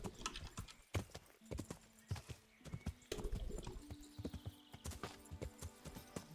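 Horse hooves clip-clop in a brisk, steady rhythm in the video game Kingdom Come: Deliverance, with faint tonal game sounds in the background.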